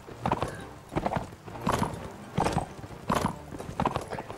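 Horse hooves clip-clopping in Mount and Blade: Warband, a slow repeated walking rhythm of paired hoof strikes at moderate distance, heard alone without talk.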